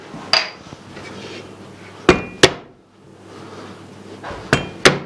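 Minced meat for beyti kebab slapped and struck on a kitchen counter, five or so sharp, close impacts in uneven pairs with quiet gaps between, no voices.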